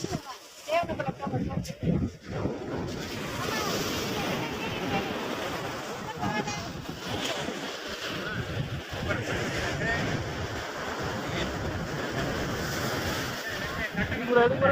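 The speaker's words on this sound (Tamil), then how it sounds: "பெரிய பெரிய அலை வர வருது" Large ocean waves breaking on a beach, a steady broadband roar of surf with wind buffeting the microphone throughout, while voices talk faintly underneath.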